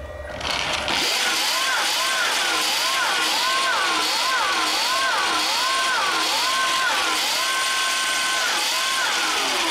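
Converted electric bike motor spinning at high RPM, a loud whirring whine that repeatedly rises and dips in pitch before holding a steady high tone.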